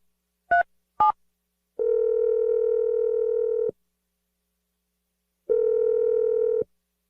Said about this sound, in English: We're going to dial his number right now